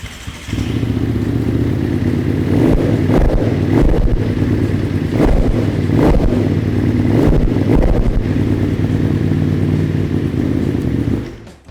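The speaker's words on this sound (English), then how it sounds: "it even sounds good because it has a custom exhaust sound as well" A 2008 Aprilia SXV550 motorcycle with a custom exhaust idles and revs, a deep, throaty low rumble punctuated by repeated sharp blips of the throttle, loud and close.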